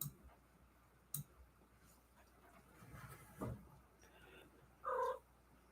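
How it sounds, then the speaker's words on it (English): A domestic cat purrs faintly and close by in a quiet room, with a few soft clicks and a brief louder chirp-like vocalization near the end. "There's my kitty."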